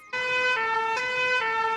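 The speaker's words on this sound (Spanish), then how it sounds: "así se escucha mi camión de bomberos" Cartoon fire engine siren from a children's animated show, a bright steady electronic wail with strong harmonic tones that pulses in short cycles, loud and close, with no talking over it.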